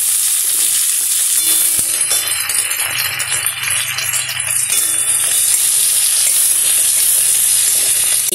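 Carrots and onions frying in oil with okra, a steady dense sizzle that runs throughout at close range, with a brief clatter of stirring near the start.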